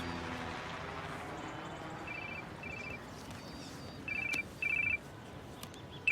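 A phone rings with an incoming call in a quiet indoor room. Short electronic tone bursts repeat in a patterned ringtone, growing more insistent in pairs toward the end.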